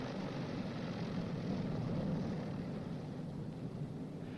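A Boeing B-29 piston aircraft engine running on the ground during a magneto check, a steady, dense propeller drone at constant power, heard alone without speech.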